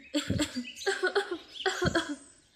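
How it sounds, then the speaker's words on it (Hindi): Two or three harsh, rough bursts that sound like coughing, fairly close and moderately loud, with no other talking. "तेरी ये खांसी मुझे अच्छी नहीं लगती"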